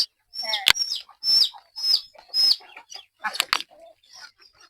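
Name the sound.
ducks and chickens on a village house roof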